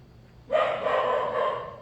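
A dog barking continuously indoors at close range, one loud sustained burst of barking that starts abruptly partway through and carries on steadily to the end, with no talk over it.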